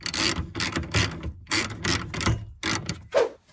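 A ratchet tightens a 10mm parking brake bolt on a 2007-2013 Silverado or Sierra in rapid bursts of loud, close clicking, split by brief pauses and with no talking.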